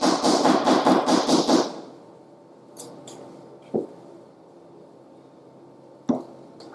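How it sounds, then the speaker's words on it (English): Meringue folded gently into cake batter in a bowl: a run of soft, rhythmic wet squishing strokes up front, then quiet with a few isolated light taps and plops. "So we're being very gentle and just folding."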